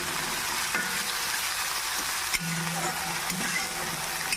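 Eggplant and tomato frying lightly in a pan give a steady, moderate sizzle throughout, with a few soft clinks and scrapes of stirring and no talk.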